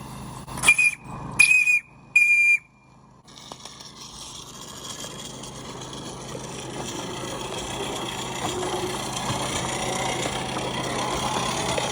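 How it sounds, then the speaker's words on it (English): A live steam locomotive's whistle sounds in three short blasts, whistling at about a quarter pressure, then gives way to a rising, steady hiss and rumble of steam that grows louder. "It starts to whistle at about a quarter pressure, honestly."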